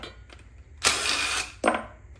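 A ratchet wrench loosening 10 mm injection pump bolts on a 1996 12-valve Cummins: a few faint clicks, then a close, raspy ratcheting burst lasting under a second, followed by a shorter second burst.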